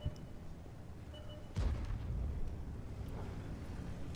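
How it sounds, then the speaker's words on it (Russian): A shell from artillery in a tank video game booms suddenly and heavily, with a rumbling tail fading into continuous background battle noise. "Но там сбоку бьет арта."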